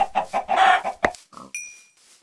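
Minecraft-style chicken clucks in a UHC match, a quick run of short bird calls followed by a brief electronic chime, fairly close and clear with no talking.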